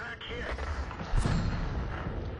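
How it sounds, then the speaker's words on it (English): Rapid-fire gun on an enemy tank shooting at a Hetzer tank destroyer in a tank combat video game, a continuous thudding barrage with a heavier boom midway, dense and loud under a voice. "And he's shooting at me. He's got a rapid fire gun."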